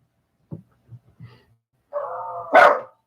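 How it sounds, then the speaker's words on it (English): Several dogs bark near the microphone: a few short, low woofs come first, then a sustained whine and one loud, sharp bark to close, with no talking over them. "You got one dog barking and all the rest of them want to start."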